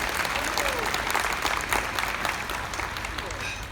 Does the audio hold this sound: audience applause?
yes